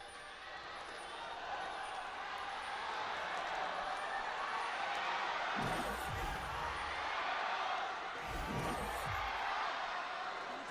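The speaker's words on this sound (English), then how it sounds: "Everyone's just cheering for their teams at the exact same time." An arena crowd at a League of Legends esports match, Kingzone DragonX vs Flash Wolves, keeps up a continuous roar of cheering with two louder surges. The crowd is heard at a moderate distance.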